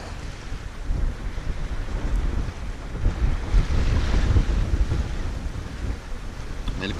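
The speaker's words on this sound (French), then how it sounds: "La mer s'est bien montée." Rough sea off the Provence coast near Porquerolles and Saint-Cyr-les-Lecques, heard from a boat as a continuous loud rush of waves and hull splash, heavy wind buffeting the microphone throughout.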